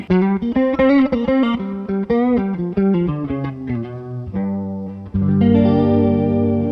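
Clean guitar chords strummed and picked with a shimmering, warbling chorus effect, one chord after another, ending on a fuller ringing chord.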